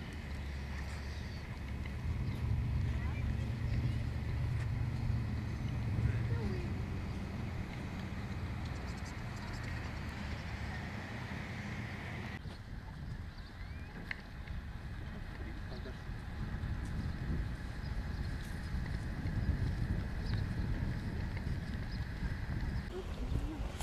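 Strong wind blowing across a lake beach on a cold, drizzly day, a steady broadband rush with low rumbling buffets that runs continuously for the whole stretch, loud and unbroken.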